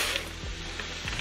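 Deer heart pieces sizzle steadily in a hot frying pan, a continuous close crackle with a couple of low clunks of a utensil stirring or shifting the pan; no talking.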